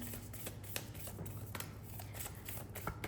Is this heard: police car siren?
no